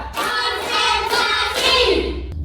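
A classroom of students claps hands together in a rhythmic counted clap, a dense, continuous burst of slaps that runs close and loud through the whole moment.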